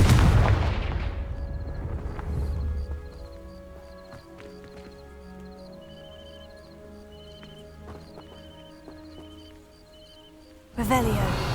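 In the video game Hogwarts Legacy, a Confringo fire spell hits dry vines with a loud burst that fades over a couple of seconds. Quiet game music with chiming tones follows, and then a second sudden burst comes near the end.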